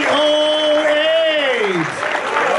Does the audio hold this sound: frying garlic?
no